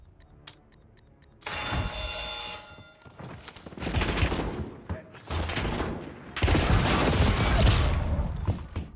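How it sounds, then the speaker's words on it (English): Enemy players fire on the player in Call of Duty Warzone: loud, dense bursts of automatic gunfire arrive in clusters, with quieter sporadic shots between them and a sustained heavy barrage near the end. "Three players, 2 of which can see each other, both shooting at me."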